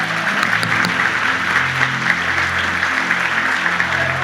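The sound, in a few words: congregation applauding in church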